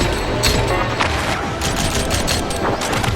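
Dual pistols firing in the Rollerdrome video game, a rapid dense volley of sharp gunshots over busy game sound, loud and continuous.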